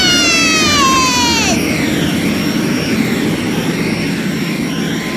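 A cartoon jet pack takes off and flies away with a falling whistle-like sweep, then settles into a loud, steady roaring engine rush that keeps going.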